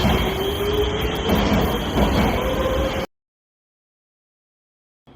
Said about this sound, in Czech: Však metro samo o sobě zní docela elektricky